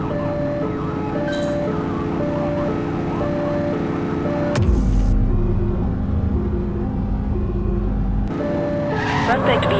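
Police car traffic in the video game The Precinct, a wailing siren pattern over steady engine rumble with a passing whoosh midway, continuous and fairly loud.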